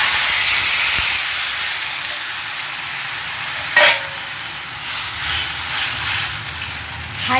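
A boiled mixture for a Bengali pui shak pitули dish hits a hot pan, bursting into a loud hissing sizzle that slowly settles into a softer steady fry, with a brief clatter midway.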